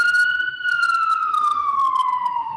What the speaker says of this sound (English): apologies for the ambulance that's coming past